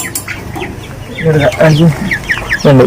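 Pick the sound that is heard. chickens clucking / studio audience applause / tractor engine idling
chickens clucking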